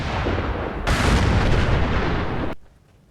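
Artillery test rounds fired in Fallout 4, a dense, roaring blast of booming fire that swells loudly for about two seconds and then cuts off abruptly into a fading rumble.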